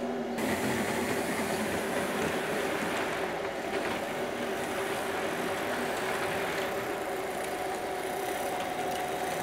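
A Hornby Flying Scotsman model locomotive running on its track, a continuous mechanical whirr and rattle of motor and wheels at a steady level with no voices.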